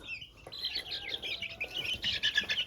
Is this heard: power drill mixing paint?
no